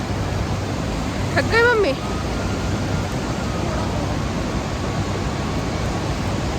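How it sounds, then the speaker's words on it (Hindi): Waterfall beside the Kedarnath trek, a constant broad rushing roar filling the air, with a short spoken exchange over it. "पीछे झरना है इधर।"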